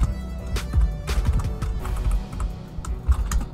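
Fingers type on a computer keyboard in rapid, uneven bursts of clicks, close and steady, with a low background rumble beneath.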